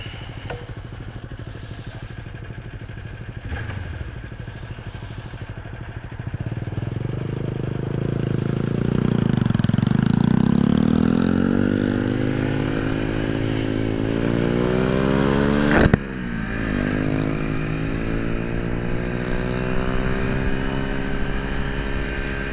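Motorcycles ride past on the road in Austin, a steady engine drone that swells into a loud, rising pass around the middle and holds, with a sharp clack partway through and continuous engine noise throughout.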